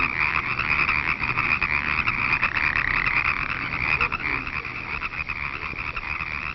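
A bullfrog at a pond sends out a steady, dense chorus of croaking calls that fills the whole stretch without pause, fairly close and continuous, with no voices.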